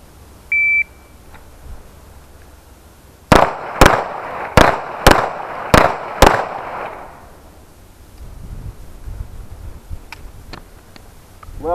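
Six pistol shots fired at a steady pace during a timed tactical pistol qualification drill, preceded by a short electronic start beep; loud, sharp cracks with a brief ringing tail, then quiet.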